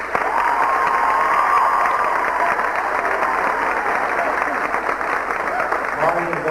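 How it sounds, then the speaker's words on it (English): A school spring concert audience from 1997 applauds and cheers, a steady roar of many hands clapping mixed with whoops and shouts, and a voice speaks at the end. "I think she deserves a big round of applause."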